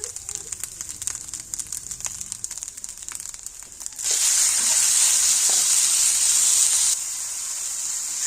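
Tomatoes sizzling in a hot pan, faint at first, then a loud steady hiss bursting up as they hit the oil and easing slightly toward the end.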